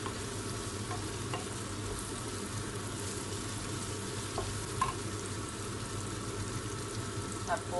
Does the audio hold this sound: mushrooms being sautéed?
yes